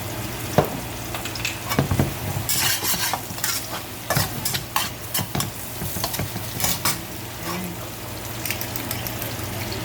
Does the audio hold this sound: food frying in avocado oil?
yes